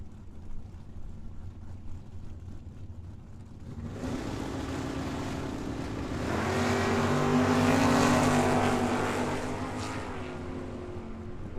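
Drag race cars run at Tucson Dragway: after a quiet track-side hum, a deep engine roar swells from about four seconds, peaks loudly near eight, then eases off while still rumbling.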